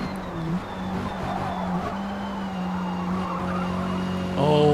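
A racing car, likely a Mazda Miata, drives in the Forza Motorsport video game at around 116 mph. The engine hums steadily while the tires screech and skid, and the engine revs climb at the very end.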